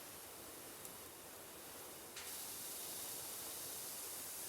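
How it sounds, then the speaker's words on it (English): Continuous aerosol or trigger spray hissing steadily while cleaning along a parapet wall, a long even hiss that rises a little louder partway through, close and alone with no talking. "I'm just spraying. I'm going all the way."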